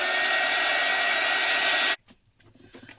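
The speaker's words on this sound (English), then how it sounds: "Just going to give this a dry before we do our work" A heat tool drying a stamped card background blows with a loud, steady whoosh for about two seconds, then cuts off abruptly, leaving faint handling noise.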